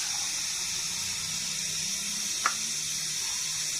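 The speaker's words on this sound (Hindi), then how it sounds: "इसमें जितने साबूदाना लिया हुआ है उतने पानी डालें इसमें।" Steady splashing of water being poured onto soaked sago for making papad, a continuous close gush with a small clink partway through.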